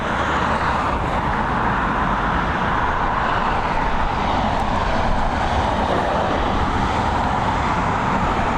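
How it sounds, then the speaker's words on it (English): A Ryanair Boeing 737 arriving at Dublin Airport on a flight from Amsterdam, heard as a steady, loud broadband jet-engine roar that holds evenly throughout with no voices. "She's a 737 coming in from Amsterdam."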